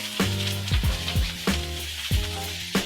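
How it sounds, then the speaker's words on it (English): Onions sautéing in a really hot pan, giving a continuous sizzle with a few low thumps and scraping movements as they are tossed. "In a second pan that's really hot, I'm going to saute the onions."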